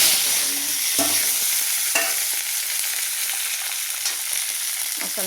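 Masala frying in sesame oil in a pan while being stirred, a steady close sizzle with scraping spoon strokes cutting in every second or so, no talk.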